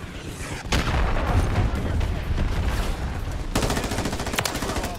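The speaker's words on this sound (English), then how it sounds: "Friendly cruise missile deployed" A friendly cruise missile strike lands in a combat video game, mixed with constant rapid gunfire. Heavy, dense blasts and shots fill the whole stretch, loud and close, with a sharp burst partway through.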